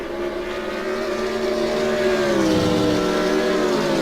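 BMW Z4 race cars at Monza in a sim racing video game give a steady, loud engine drone with rising and falling harmonic tones as the cars accelerate, with no talking.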